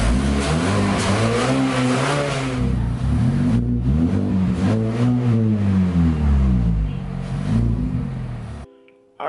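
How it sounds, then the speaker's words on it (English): Mazda 3 with an aFe cold air intake revved several times, engine pitch climbing and falling in repeated sweeps over a steady idle, loud and close. "do a couple revs,"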